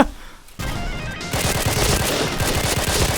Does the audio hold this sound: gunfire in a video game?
yes